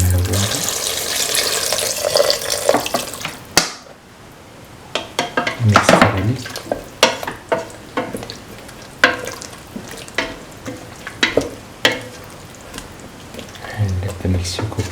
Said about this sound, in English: Pour 300 ml of water.